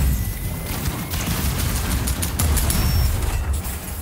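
Rapid gunfire from a player's weapon tearing down enemy turrets at an enemy base in Outcast: A New Beginning, a dense continuous clatter of shots and impacts with no talk.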